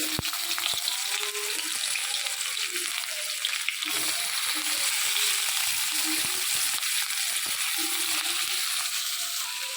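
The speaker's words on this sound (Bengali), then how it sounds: "এই যে পেঁয়াজ রসুন সব কিছু দিয়ে দিয়েছি, দিয়ে ভালো করে এটাকে ভেজে নেব" Onions and garlic fry in a pan for a biryani, a steady bright sizzle with occasional scrapes and stirring clinks running without pause.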